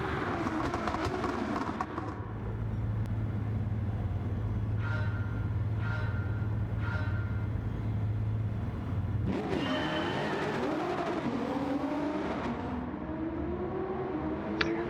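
A Nissan GT-R T-Spec fitted with a Bugatti Chiron V16 engine accelerates hard in Gran Turismo 7, a loud steady engine roar that holds for about nine seconds, then shifts and climbs again with rising whine.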